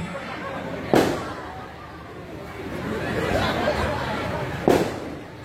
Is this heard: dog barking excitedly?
no